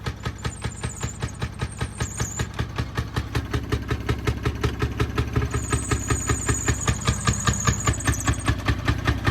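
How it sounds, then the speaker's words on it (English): A small single-cylinder engine on a Fairmont rail motorcar chugs in a steady, rapid rhythm under throttle, gradually building in loudness as it works harder, with faint squeaks above. "open your throttle, and engage the belt until it starts catching"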